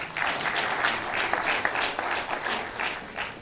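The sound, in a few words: conference audience clapping for themselves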